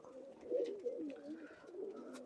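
Pigeons coo in soft, throaty rolling calls at a loft in Khulna, a few overlapping murmurs close by and fairly quiet, with no talk.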